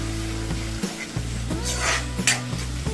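Puree for Maharashtrian-style chole sizzles steadily as it is stirred in a hot pan with oil, a continuous close frying hiss with a few soft spoon scrapes over a low steady hum.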